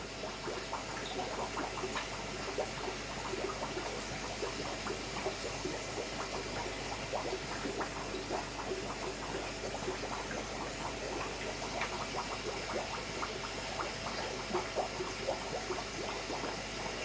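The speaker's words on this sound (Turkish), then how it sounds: "Ondan sonra tekrar su basalım" Water pours steadily into a newly set-up planted aquarium, a continuous, faint rushing and trickling that holds even and unbroken throughout, with no voices over it.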